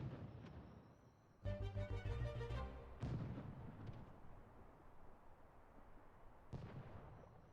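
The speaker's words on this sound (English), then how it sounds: "I'm hearing what sounds like fireworks." Fireworks in The Sims 4 video game go off in a rapid run of crackling bursts, then a few more scattered booms and pops follow over a rumbling background, all at a moderate distance.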